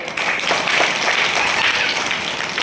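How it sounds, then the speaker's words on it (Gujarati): Children or players clap their hands together during a circle game, a loud, close, continuous burst of many clapping hands. "તાળી તાળી ખાલી તાળી અવાજ આવવો પડે ક્લેપ"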